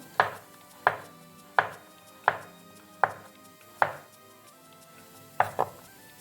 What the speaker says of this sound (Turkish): Onları da ince ince doğrayın.